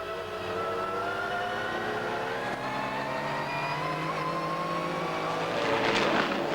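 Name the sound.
XJ220 Jaguar GT race car racing at Brands Hatch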